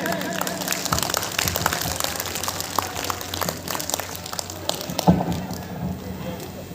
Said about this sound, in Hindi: जोरदार तालियों से हमारे चेयरमैन सर का इस्तकबाल के लिए प्लीज बिग हैंड.